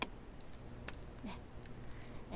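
A single Enter key is pressed on a computer keyboard, one crisp click amid a few faint lighter taps in a quiet room.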